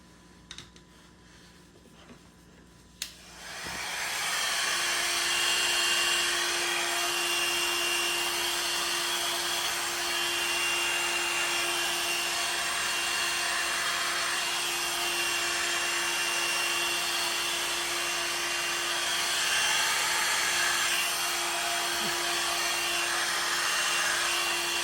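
Hair dryer blowing acrylic paint across coasters in a fluid art pour, a steady loud broadband whoosh with a constant hum that switches on after a few seconds of quiet and runs continuously.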